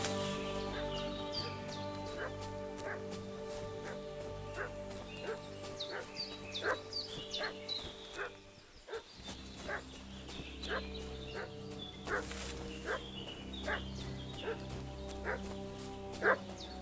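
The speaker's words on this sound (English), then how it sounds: "What's that dog making such a fuss about?" A dog barks repeatedly in the medieval world of the video game Kingdom Come Deliverance II, sharp yaps at a middle distance over a constant background of ambient game sound.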